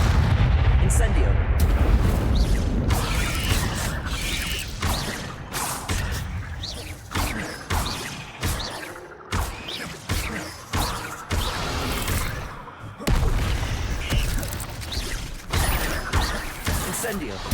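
The Incendio fire spell cast repeatedly in Hogwarts Legacy, a run of heavy whooshing bursts and booms that pulse in a regular rhythm, loud and close, over continuous game noise.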